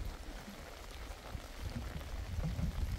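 Steady rain patters and hisses, a dense wash of drops on a surface that grows slightly louder toward the end.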